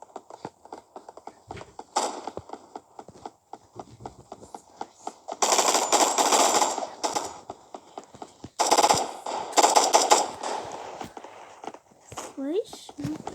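Rapid bursts of automatic gunfire from a gun fight video game, loud close rattling volleys in two main stretches with scattered single shots between, while players talk over the action.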